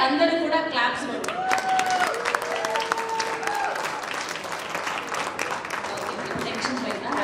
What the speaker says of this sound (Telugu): ఒక్కసారి అందరూ కూడా క్లాప్స్ కొట్టండి